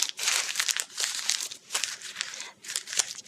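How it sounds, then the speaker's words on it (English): A sheet of paper probe crumpled into a ball by hand in a classroom activity, giving a continuous close, loud crinkling and crackling in irregular bursts with no talk. "have the students stand up with the probe in their hand and crumple it into a ball."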